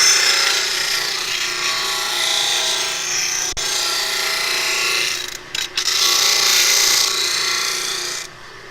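An 18-inch disc sander grinds steadily against wood, a loud continuous abrasive hiss held close that briefly drops out twice near the end before stopping.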